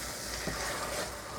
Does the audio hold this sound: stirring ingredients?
yes